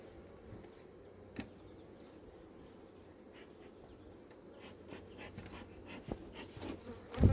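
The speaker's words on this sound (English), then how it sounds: "I've probably got 6 or 7 bees round my face now" Several honeybees buzz close around a face at an apiary in a steady drone, with occasional louder passes as one flies near, and a brief bump at the end.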